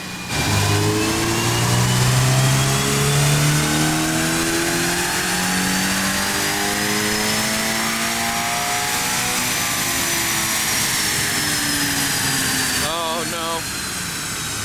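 A Subaru BRZ revving hard on a dynamometer during a power run: loud, sustained engine roar climbing steadily through the gears with rising harmonics, then easing off near the end, with voices faintly audible.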